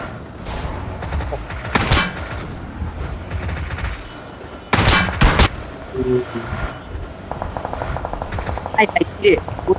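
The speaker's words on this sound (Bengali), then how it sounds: "গান সাউন্ড পাইছি, আমাকে ফায়ার করছে" Gunfire in a video game comes in a couple of sharp, loud bursts with smaller scattered shots between them, over a constant low background of game noise.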